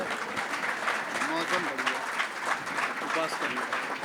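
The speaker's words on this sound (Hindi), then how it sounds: "ऐसी पूरी टीम के लिए जोरदार तालियां" Audience at a Jain guru-disciple gathering in Ujjain applauding the organising team, a moderate, steady patter of clapping under several voices talking and calling out.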